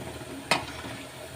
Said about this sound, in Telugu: షుగర్ సిరప్ కరుగుతూ ఉంది